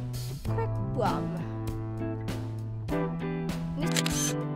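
Several sharp camera shutter clicks snap at irregular intervals during a behind-the-scenes school yearbook photo shoot, set against a steady tonal background sound.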